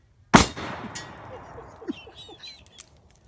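A single loud, sharp gunshot from a large-caliber revolver, a Smith & Wesson 629 or Ruger Super Blackhawk, fired outdoors, cracks close up and then echoes and decays over a few seconds, with faint bird calls following.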